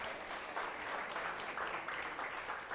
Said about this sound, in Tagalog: Yun pong palakpak para kay Jesus.